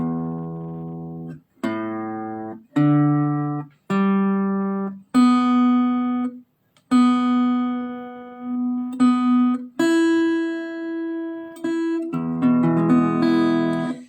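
Acoustic guitar strings plucked one at a time and left ringing, separated by short pauses, pitches adjusted as each string is brought into tune, then a strummed chord.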